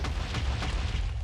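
A booming elemental explosion attack in the Avatar: Master of Elements video game, one low rumbling blast with a heavy bass rumble that fills the short moment.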